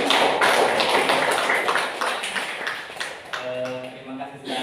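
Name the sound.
audience applause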